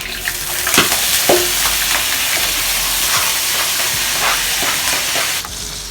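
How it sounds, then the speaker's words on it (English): Tomatoes stir-fry in a little oil in a pan for pork lengua estofado, a loud, steady close sizzle broken by regular scraping strokes of a utensil against the pan. "Kailangan natin itong stir fry ito."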